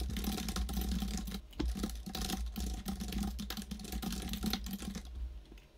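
Someone types C code quickly on a computer keyboard in a Windows programming session. The key presses are dense, close and continuous, with brief pauses.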